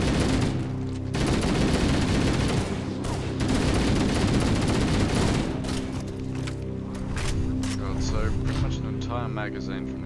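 Rapid assault rifle fire against the Flood in the game Halo CE, loud sustained bursts of close automatic shots with brief pauses, followed by quieter scattered effects and a voice talking over the action.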